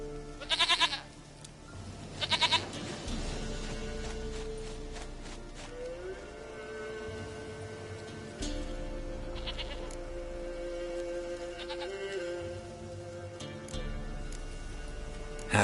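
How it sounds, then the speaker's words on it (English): A goat bleats in the video game The Witcher 3, giving several short bleats at irregular intervals over a constant ambient game background, moderately clear and close, with no talking. "Goat of mine, dearest,"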